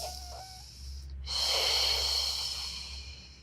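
A single long breath out during a beginner Pilates exercise, a soft airy exhale that swells after a short pause and then fades slowly, close and alone with no talk.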